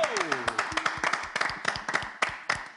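An audience claps and applauds at a live show celebrating an award-winning African artist, with quick sharp claps over a steady bed of applause and some crowd voices mixed in.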